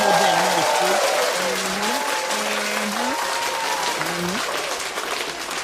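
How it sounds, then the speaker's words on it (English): Audience applause fills a boxing discussion show as a steady dense wash of clapping, with a voice talking over it throughout. "Clap it up one more time."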